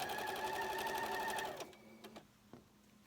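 A sewing machine stitches down the rows of a scrappy Valentine heart quilt block, running steadily for about a second and a half, then stopping, followed by a few faint clicks and handling sounds.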